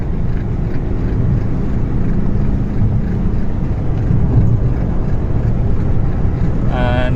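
A Hyundai Xcent car engine drones continuously under heavy road and wind noise while accelerating through the gears, heard from inside the cabin, with a brief tonal whine near the end.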